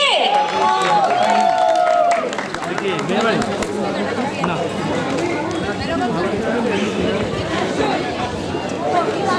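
A sangeet audience breaks into applause and cheering, starting with high whoops and shouts, then settling into steady clapping and crowd chatter that carries on under the noise.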